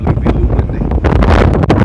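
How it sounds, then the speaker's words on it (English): Strong wind buffets the microphone outdoors with a loud, continuous rumbling roar and gusty surges throughout. "Probably be a little windy."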